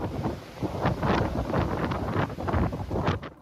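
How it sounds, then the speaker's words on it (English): Storm Éowyn's record-breaking winds in Ireland come through as a loud, buffeting roar that surges and falls in repeated gusts against the microphone. "The sound of Storm Éowyn, which brought record-breaking winds gusting to 182 kilometers an hour in Galway one day"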